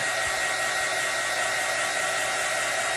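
A hair dryer blows steadily at close range over wet acrylic paint, giving an even, unbroken whooshing drone throughout.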